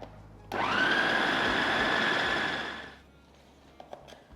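A blender whirs loudly and steadily for about two and a half seconds while mixing a pinto bean patty mixture, then winds down, leaving a quiet room with a few faint clicks.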